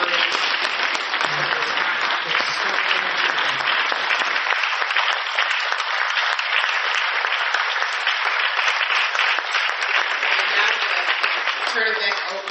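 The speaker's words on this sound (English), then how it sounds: "if you all can give everyone up here a round of applause for their courage" Sustained audience applause fills the room at a community gathering for justice for children, dense steady clapping lasting throughout with a few voices mixed in.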